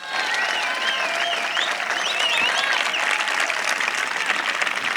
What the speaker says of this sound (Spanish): un aplauso para el nieto recuperado